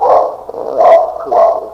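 A dog barks three times in a steady rhythm in an old-time radio drama, each bark loud, full and close by, with short pauses between them.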